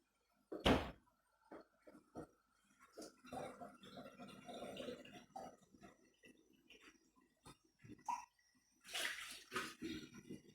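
Tap water runs and splashes in intermittent bursts as beans are rinsed for a Nigerian beans and fried plantain meal, with a sharp knock near the start; quiet and close.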